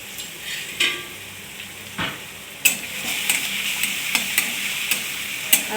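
Crushed green chili thecha sizzles in hot oil as a spatula stirs it, sharp scraping taps breaking over a steady, close frying hiss.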